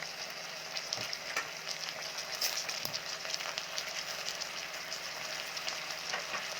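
Salmon belly frying in a pan for paksiw sa ulo ng salmon, a steady close sizzle with faint crackles and occasional soft clinks of a utensil, no talking.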